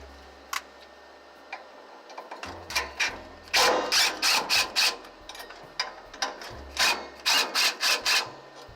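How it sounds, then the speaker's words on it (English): A ratchet backs out 8mm bolts from the top of a robot bracket on an Evolution 2 machine: quick, close bursts of clicking that come in rhythmic clusters and grow denser through the second half, with no talking. "we're going to remove the 2 top 8mm bolts at the very top of the robot bracket and then loosen the bottom 2."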